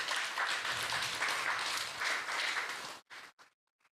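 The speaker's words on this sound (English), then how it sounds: "let's give these devotees a big round of applause" A temple congregation applauds the devotees who help with prasadam, a fairly soft, even patter of many hands that cuts off abruptly after about three seconds, leaving a couple of faint trailing sounds.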